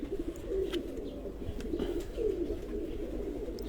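Domestic pigeons at a home loft in Sargodha coo steadily in low, throaty rolling phrases, several birds overlapping close by with no talk.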